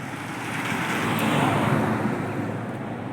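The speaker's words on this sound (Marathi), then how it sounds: "हे गाडी आली इकून" A vehicle passing on a village road, a broad rushing swell of engine and tire noise that builds to a peak mid-way and then fades, fairly close with no voices.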